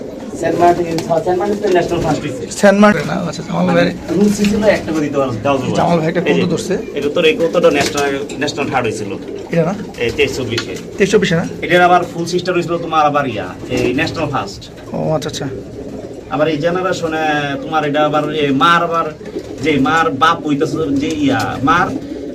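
Racing pigeons coo steadily in a loft, their soft throaty calls running underneath continuous close-up conversation between men for the whole stretch.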